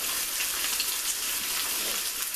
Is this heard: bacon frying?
yes